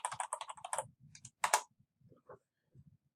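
Quick typing on a computer keyboard: a short run of crisp key clicks, then a few scattered, softer taps trailing off in an otherwise quiet room.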